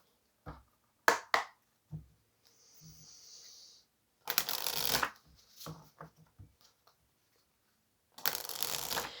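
A deck of tarot cards is shuffled during a pick-a-card reading, giving several close, crisp bursts of riffling and slapping, with short taps between and two longer shuffles near the end.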